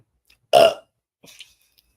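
A single loud, throaty burp, followed by a brief softer rustle a moment later.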